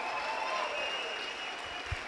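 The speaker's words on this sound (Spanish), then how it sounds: "Dale un fuerte aplauso al Señor." Church congregation applauding during a sermon, a soft, steady patter of clapping with a faint sustained organ-like tone beneath it.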